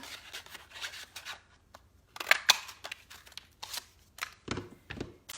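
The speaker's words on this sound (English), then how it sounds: "So I'm going to cut out a piece here." Scissors cutting a paper piece for a handmade card, a close, quiet run of irregular snips and rustling paper handling with no talking.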